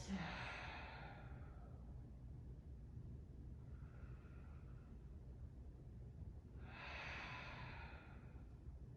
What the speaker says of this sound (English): One more round of breath.